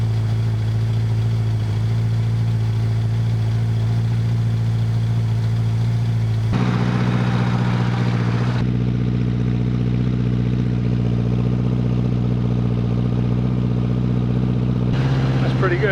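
An old motorcycle engine, left standing for 20 years, idles with a steady low rumble and a mechanical clatter. Halfway through it lifts briefly to a slightly busier note, then settles back, running alone and close by.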